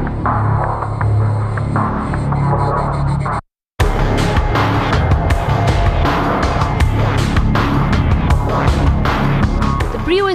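A 2014 Honda Brio small compact hatchback cruises on a test drive in India, with a steady, throbbing cabin engine hum and road noise broken by a brief cut to silence partway through.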